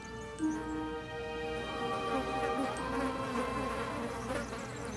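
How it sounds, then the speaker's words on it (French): Honeybees hum steadily beneath almond trees at daybreak on the Valensole plateau, a continuous close buzzing drone with no one speaking. "sous les amandiers, les abeilles vont découvrir leur nouveau territoire"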